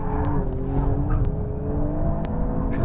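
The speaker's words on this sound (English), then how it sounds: "a car of this nature can do hard laps of a racetrack against racing cars and supercars" An Alfa Romeo Stelvio Quadrifoglio SUV driven hard around a racetrack, its engine roaring steadily and close with continuous harmonic drone, a few brief sharp transients over the top, no talking.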